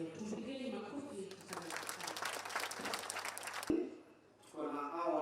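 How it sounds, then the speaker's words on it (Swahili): Crowd applause breaks out at a community gathering in Kenya's Mt Kenya region: a dense burst of clapping lasting about two seconds, with talk before and after it. "Tupigeni makofi"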